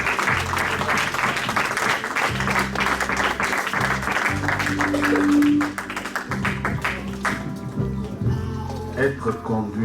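A congregation at a church service applauds to acclaim God, with dense, steady clapping that runs the whole time under low, sustained music, easing slightly toward the end.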